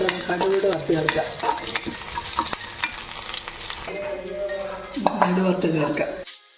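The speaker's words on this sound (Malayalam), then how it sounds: "കടുക് വറുത്ത് ചേർക്കാം." Mustard seeds fry in hot oil for a tempering on a Kerala tapioca dish, a bright sizzle with stirring and clinks of a utensil against the pan, a voice briefly heard over it.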